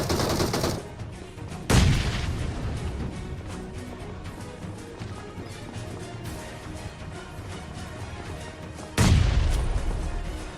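Bursts of gunfire and loud blasts ring out during a squad-versus-squad fight in a battle royale shooter game, with heavy booms near the start and end over a constant rattle of shots.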